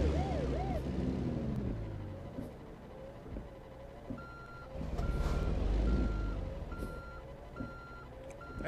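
A big truck reverses with steady, evenly spaced beeps, its engine rumbling close by and a brief hiss partway through.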